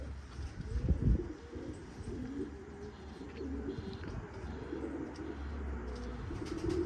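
Pigeons coo in a loft housing many paired birds, a soft low rhythmic cooing that is close and steady, with a louder burst near the start and faint chirps in the background.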